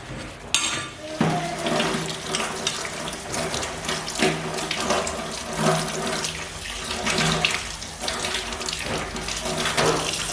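Gas stove parts are rinsed under a running kitchen tap, with steady splashing water and occasional clinks of metal pieces being handled in the sink.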